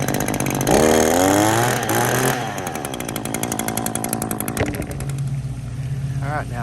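A gas-powered string trimmer whines at high revs on a property while a lawn is being mown, loud and close. The engine pitch rises and falls throughout, with a voice speaking over it.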